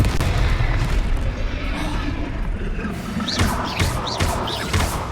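A Confringo blasting spell explodes amid combat in Hogwarts Legacy, heavy booming blasts and crashing impacts over a constant rumbling game soundtrack, with a few sharp magical whooshes near the end.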